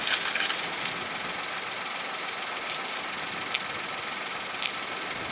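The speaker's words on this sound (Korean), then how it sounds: "이게 소리가 바퀴가 아니라 뭐가 구동축 같은 데서 소리가 나는 것 같기도 하거든요." A car driving with a noisy drive shaft, heard as a loud, steady broadband rumble and hiss of engine and road noise, with faint scraping ticks rising above it now and then and no talking.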